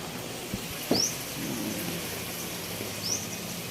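Steady rain on All Saints' Day in the Philippines hisses throughout, with a soft low rumble and two brief high bird chirps breaking through; no one speaks.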